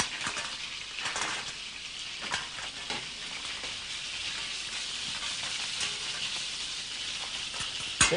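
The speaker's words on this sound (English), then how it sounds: "Okay, clams go in." Clams drop into a hot pan with fish during Galician cooking, giving a steady bright frying sizzle throughout with a few brief crackles and a sharper burst right at the end.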